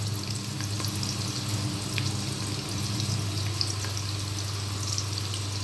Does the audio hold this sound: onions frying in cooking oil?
yes